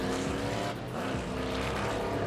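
TA2 race car with a big, powerful engine at Sepang International Circuit, a loud sustained engine roar with a brief dip midway, heard up close and without talk.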